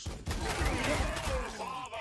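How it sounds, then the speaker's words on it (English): A dense, continuous barrage of gunfire and battle noise with sweeping tones, steady and fairly loud, a chaotic firefight in the video game Warhammer 40,000: Sanctus Reach. "Hail of gunfire."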